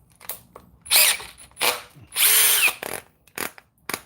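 A DeWalt power drill whirs in several short bursts, with two longer runs near the middle, close and loud, separated by brief mechanical clicks and pauses, no talking.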